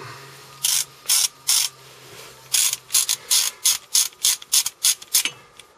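A hand ratchet rapidly clicks while backing out the brake caliper bolts during a disc and pad change, with short bursts of dense clicking, a pause, then a quicker run of regular ratcheting strokes, close and clear.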